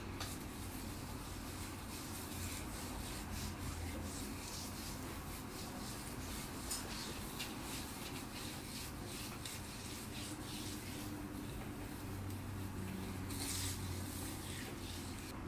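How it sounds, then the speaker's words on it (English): Curl cream being rubbed by hand through curly hair, a close, soft, continuous rustling and swishing that runs steadily throughout at low level. "take a little bit of my curl cream and just rub it through the rest at the top"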